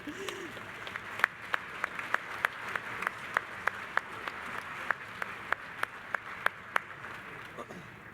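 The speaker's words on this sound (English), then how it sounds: "You can clap for him." Light applause at a university commencement ceremony for a doctoral graduate, a soft bed of distant clapping with a single nearby pair of hands striking sharply in an even, regular rhythm.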